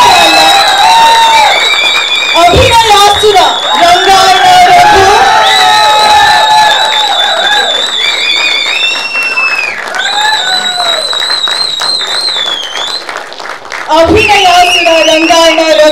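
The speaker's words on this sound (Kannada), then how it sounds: "ಜೋರಾದ ಚಪ್ಪಾಳೆ." A crowd at a stage event cheers and applauds loudly and continuously as an honorary title is conferred on actor Rangayana Raghu, with an amplified voice announcing his name over the noise.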